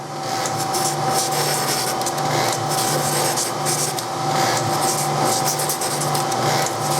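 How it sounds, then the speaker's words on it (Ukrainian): Steady, continuous abrasive rasping of a power sander smoothing wooden washers, loud and close with a constant motor whine underneath. "І шліфуємо їх всіх дружно"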